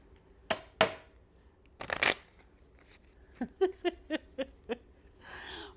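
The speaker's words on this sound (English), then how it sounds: "I can at least shuffle." A deck of playing cards is handled and shuffled close by, with a few sharp riffling bursts followed by a quick series of light, evenly spaced card flicks and a soft rustle at the end.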